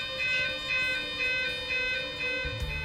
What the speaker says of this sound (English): The site alarm is a continuous two-tone siren and sounds like this.